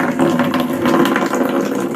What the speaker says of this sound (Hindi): चलो अब पानी चला देते हैं।